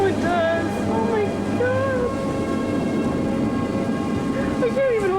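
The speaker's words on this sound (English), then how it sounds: "It sounds like a freight train." A tornado gives off a steady, heavy roar like a freight train, with continuous broadband rumbling throughout and wavering whistle-like tones on top, while excited voices are heard over it.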